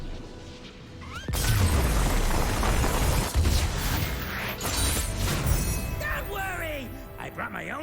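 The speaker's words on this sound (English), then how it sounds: "brought my own fireworks." A fireworks blast from the card game Legends of Runeterra erupts suddenly as a loud boom, then rumbles and crackles for several seconds before whistling, sparkling effects fade out.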